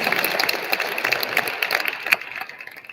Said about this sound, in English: Let's give a big round of applause to all of the winners.